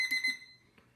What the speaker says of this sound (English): You can see that the alarm has now gone off.